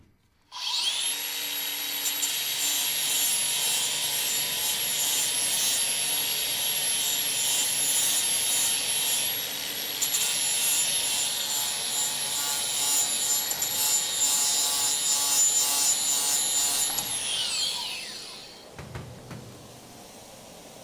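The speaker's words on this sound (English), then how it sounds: "So I'm going to try to do that again with the same disc, the flap disc, to work on that edge, to round that up" A flap disc on an angle grinder rounds off a sharp edge, a steady loud high-pitched whir and grinding rasp running for about seventeen seconds before spinning down and falling quiet.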